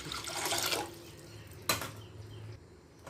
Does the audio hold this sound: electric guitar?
no